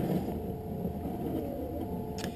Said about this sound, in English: this is going to come down and trace the shape of your frame onto the lens to make sure the lens is large enough